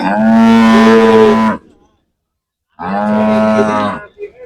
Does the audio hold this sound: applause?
no